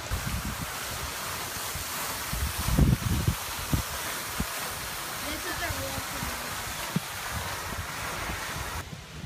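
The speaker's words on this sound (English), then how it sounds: "Sorry if it's windy. It's really windy here." Strong wind buffets the microphone in a continuous low roar with gusty thumps, and faint voices sit under it.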